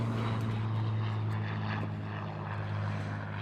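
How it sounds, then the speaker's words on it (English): A Spitfire propeller fighter flying in at a seaside airshow gives a strong droning engine note with steady low harmonics, loud and close, fading slightly as it passes, with no talk. "OC BMF Mark Sugden arrives in the Spitfire"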